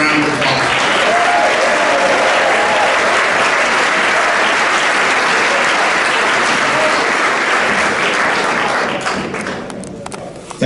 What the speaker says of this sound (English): And if you three can stand up, and another round of applause.